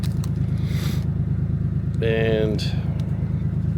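A Honda Acty mini truck fitted with an upgraded exhaust idles close by in a steady, even low rumble that runs the whole time, while someone speaks briefly over it and a short tonal squeal rises midway.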